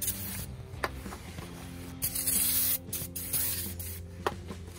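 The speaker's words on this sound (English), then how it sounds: "So we're just gonna hit it with some brake clean." Brake cleaner sprays in short hissing bursts onto the brake rotor of a 2018 Ford F150 during a brake replacement, with a few close aerosol blasts separated by brief pauses and faint handling noises.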